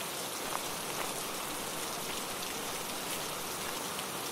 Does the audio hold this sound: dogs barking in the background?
no